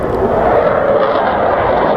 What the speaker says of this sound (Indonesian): pesawat tempur Amerika Serikat F-15 gagal mengejar drone milik